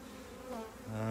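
Honey bees buzzing loudly from an opened hive as the brood chamber is worked, a dense steady drone with harmonic hum that swells louder toward the end, no talking.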